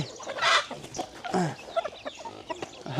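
Chickens cluck and squawk busily at feeding time on a farm, where they are fed fermented yeast-treated cassava, ripe papaya and cooked rice. The calls are close and lively, with a loud burst early on and then irregular clucks.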